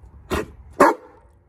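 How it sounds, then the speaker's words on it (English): A big dog gives two loud, close barks about half a second apart, the second stronger and ringing slightly, with quiet in between. "Whoa, that's a big bark."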